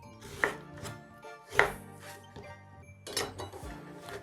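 Knife chopping daikon radish on a cutting board, a few sharp distinct chops spaced about a second apart, quiet and close with light clinks in between.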